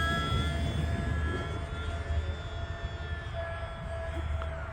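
An E-flite UMX Pitts S-1S RC airplane on 3S power flies past, its small electric motor giving a steady high-pitched whine over constant outdoor wind rumble, moderately loud and unbroken, with no talk.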